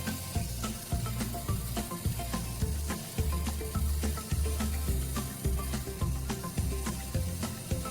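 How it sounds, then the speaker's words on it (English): A piece of sodium metal reacting with water hisses and sizzles in faint, crackly pulses as it darts across the surface, a soft, continuous fizz with no voices. "there is a hissing sound coming from the sodium metal that is darting about on the surface of the water"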